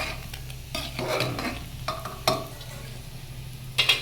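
Ginger fries in a pan on a gas stove with a steady sizzle, broken by repeated sharp scrapes and knocks of a spatula against the metal.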